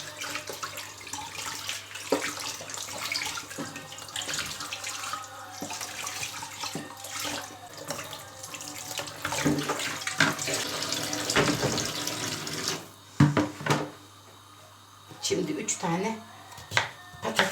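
Chicken and potatoes being rinsed under a running kitchen tap, a steady close rush of water into the sink for most of the stretch, briefly cut off near the end then running again, with faint background voice.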